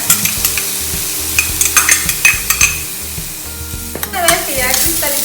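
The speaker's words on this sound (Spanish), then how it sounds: "Luego procedemos a hacer el sofrito con la cebolla." Onion for a sofrito sizzles in oil in a frying pan while a utensil stirs it, making rhythmic scraping clinks against the pan over a bright, close, continuous sizzle that flares near the end, with no voices.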